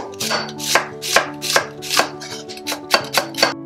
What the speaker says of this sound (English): I'll slice the onion.